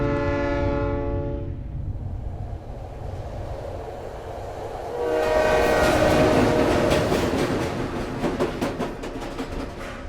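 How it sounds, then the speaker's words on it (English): In the video game Silent Hill 3, a train horn blares, fades, then a train rumbles past with rhythmic clattering of wheels on rails, growing louder and close. "Then suddenly dogs appear and a train is coming?"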